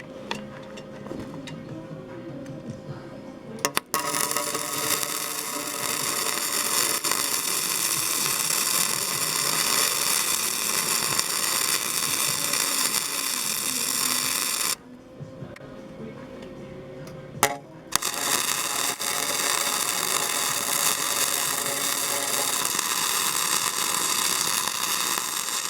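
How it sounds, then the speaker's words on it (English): MIG plug welding on automotive sheet metal, a steady loud crackling hiss running long stretches, broken by a brief pause before the arc resumes and continues to the end. "So this is how I do my plug welds."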